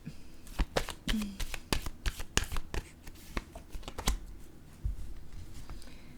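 Oracle cards being shuffled and drawn by hand, a run of crisp, close riffling snaps and flicks in an irregular rhythm, fairly quiet, with a brief voice at one point.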